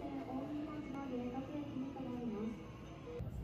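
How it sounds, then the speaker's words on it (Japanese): A train pulls into a conventional-line platform at Kyoto Station, its motors whining down in pitch over a constant rumble. Faint station voices sit in the background. "ホームに上がったらちょうど電車が来ました。"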